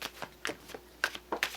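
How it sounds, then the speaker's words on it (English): A deck of Antique Anatomy tarot cards is shuffled by hand, giving several quick, crisp riffling bursts close by, with short pauses between them and no voices. "2 more shuffles"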